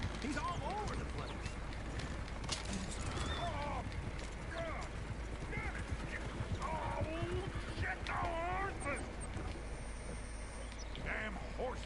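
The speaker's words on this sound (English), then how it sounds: "Damn horses." Horses' hooves clip-clop on a trail in the video game Red Dead Redemption 2. The steady hoofbeats sit low in a busy game soundscape of ambient birds, with quiet voices talking over it.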